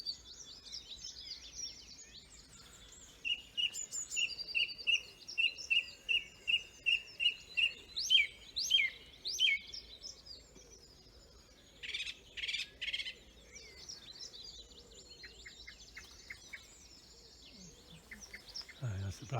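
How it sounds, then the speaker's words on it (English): A blackbird calls amid a spring dawn chorus, a faint run of about a dozen rapid high chirps followed by scattered notes from other birds, distant and quiet against low background rumble. "That's the blackbird making that call now."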